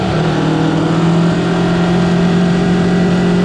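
A 2019 Aprilia RSV4 1100 Factory sportbike engine drones loud and steady under braking while downshifting with the quickshifter, steady tonal hum mixed with wind rush, heard from the rider's position.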